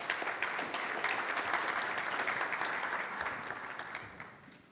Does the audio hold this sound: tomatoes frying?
no